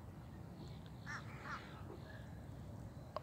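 Birds call faintly across a brackish lake, with a few short, hoarse duck-like or crow-like calls. They sound distant and sparse over a low wash of steady background noise.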